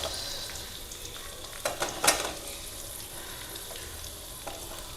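Sliced onion sautéing in a pan for a yam curry gives a steady, close sizzle, with a few sharp clicks and scrapes of stirring near the middle.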